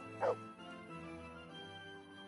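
In the video game Kingdom Come: Deliverance, a dog gives a single short, fairly close bark over quiet game ambience.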